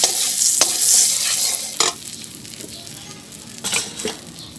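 Egg frying in mustard oil seasoned with salt and turmeric in a village kitchen, a bright sizzle broken by several sharp scraping stirs of a spatula against the pan.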